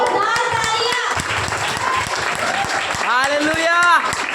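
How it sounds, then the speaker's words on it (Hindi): A church congregation claps together in steady applause while a voice speaks over it, the clapping dense and close throughout. "जोरदार तालियां।"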